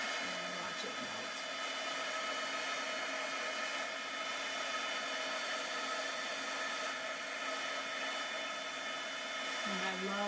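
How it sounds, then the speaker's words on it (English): An embossing heat gun runs steadily while melting silver embossing powder on cardstock, giving a constant whirring hum with a fan-like hiss that holds at even level from start to end, close and fairly quiet. "you let your heat gun get warm, and then you're going to go onto your cardstock"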